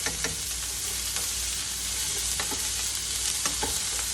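Vegetables roasting with garlic in a pan sizzle steadily, with a few sharp scrapes and clicks from stirring over the frying hiss.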